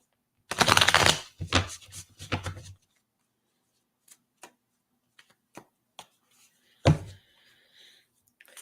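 A deck of oracle cards is riffled and shuffled in quick bursts near the listener, followed by scattered soft taps and a final short shuffle.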